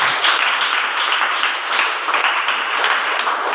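Loud, sustained applause from an audience at a Telugu Christian sermon, a dense continuous wash of clapping with no pauses and no voices over it.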